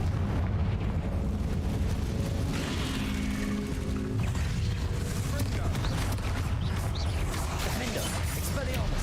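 A Confringo fire spell blasts in Hogwarts Legacy, a loud, dense burst of booming rumble and crackling magic effects that keeps churning across the whole stretch amid ongoing game noise.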